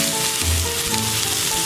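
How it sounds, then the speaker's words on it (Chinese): Rolled pork slices pan-frying in oil over medium heat, giving a steady close sizzle throughout with a slightly louder bubbling swell near the middle. "将两面煎至金黄，"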